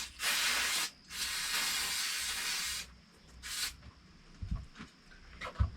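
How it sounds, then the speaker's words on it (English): Liquid sprayed over a bucket while repairing a 455 Rancher chainsaw in wet, rainy weather, heard as three close hissing bursts of varying length, each cutting off sharply, with quieter rustling handling noise after them. "I'll give this guy a little spray over my bucket"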